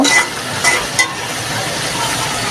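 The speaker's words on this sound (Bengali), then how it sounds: "এগুলো সব কিছু দিয়ে তারপর ভালো করে মশলাটা কষিয়ে নিচ্ছি" Spice paste with whole garam masala sizzles and fries steadily in a pan, a continuous loud hiss with a few brief stirring scrapes near the start.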